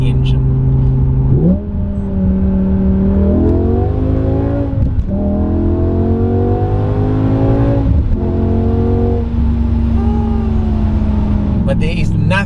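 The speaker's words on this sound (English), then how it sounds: "there is nothing like the sound of a V10" A BMW 850i fitted with a V10 engine revs repeatedly, its pitch climbing in steps through several rising pulls, loud and close with a steady deep drone underneath.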